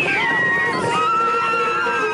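Horses neighing and whinnying amid crowd babble and shouting at a grueling 9-mile Mongolian horse race with young riders, loud and continuous with a distant clip-clop feel throughout.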